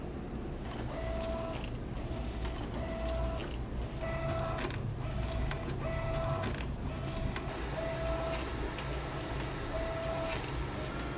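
A printer works through a print job in a garage print business, with repeated short mechanical tones and steady whirring motor noise running continuously underneath at close range.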